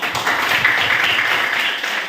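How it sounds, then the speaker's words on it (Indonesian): Children in a Christian religious education class clapping their hands together, a dense burst of loud, close applause that lasts about two seconds. "Tepuk tangan."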